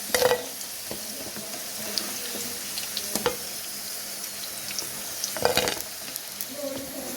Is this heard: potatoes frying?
yes